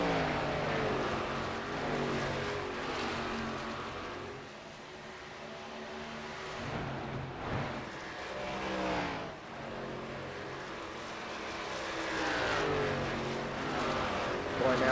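Stock race cars of the Midwest Winston Cup Series drone around the track in a steady, layered engine roar, rising and falling as packs pass, with race commentary running over it throughout.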